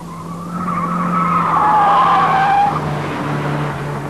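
Tyres squeal loudly as a car corners at about 75 in fifth gear on a high-performance driving course, a rising skid that holds for several seconds over steady engine noise, then eases.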